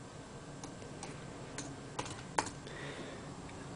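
A handful of sparse, light taps on a computer keyboard come close by against a quiet background, with one slightly louder keystroke near the end.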